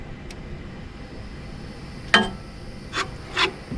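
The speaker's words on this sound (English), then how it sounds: "And then we'll tighten this up." A wrench tightening the belt tensioner bolt on a tractor during a no-start repair: after a quiet stretch, three short, close ratcheting rasps sound in quick succession near the end.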